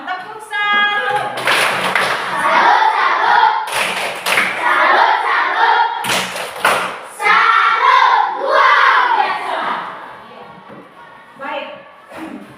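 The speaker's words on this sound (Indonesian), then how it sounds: "mari kita berikan tepuk salut untuk kita semua" A group performs a patterned clapping routine, bursts of rhythmic hand claps and thumps mixed with chanted voices, loud and close, pausing between sections and fading into quieter talk near the end.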